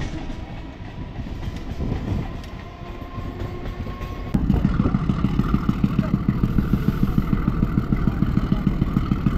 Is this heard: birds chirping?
no